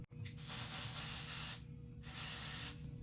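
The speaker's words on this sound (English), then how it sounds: "I just spray it throughout my roots, really wherever my hair produces the most grease" Two long bursts of dry shampoo spray hiss up close onto hair roots, separated by a short pause, with a faint rustle between them.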